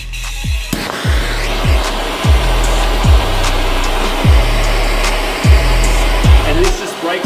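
A steady roaring whoosh of a heat gun or torch warming super-glued steel knife liner pairs to break the bond, with a regular low thump recurring about every 0.8 seconds, loud and close throughout.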